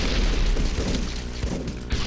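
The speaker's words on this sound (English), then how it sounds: "you'll see how the RPG just does crazy damage" RPG rocket blast in the video game The Last Stand 2, a dense rumbling boom with crashing debris filling the whole short stretch at a loud, steady level.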